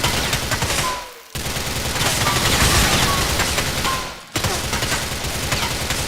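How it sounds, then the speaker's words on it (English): Gunfire in Grand Theft Auto IV, loud, sharp and metallic, with rapid sustained automatic bursts broken by two brief pauses, close and dense throughout. "every gunshot sounds deadly and metallic"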